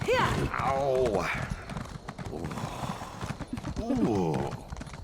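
Rhythmic hoof clip-clops of a galloping horse in the video game Elder Scrolls Online, with a few whinnies, while people talk over it, excited and laughing.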